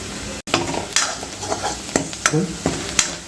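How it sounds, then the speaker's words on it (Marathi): Onion frying with a pinch of Kashmiri red chili powder in a masala base for clams is stirred briskly, with loud close sizzling punctuated by several sharp spoon scrapes and taps against the pan. "आपला कांदा भाजलेला आहे त्याच्यामध्ये आपण थोडंसं कश्मीरी लाल पावडर आपण त्याच्यामध्ये टाकूया"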